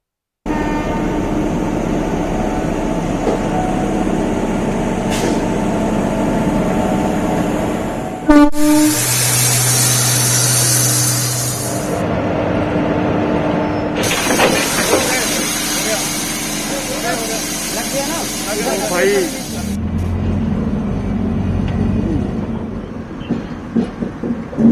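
An old locomotive converted to battery-electric power rumbles steadily along the rails, with long loud horn blasts sounding twice partway through. A voice is heard talking over it.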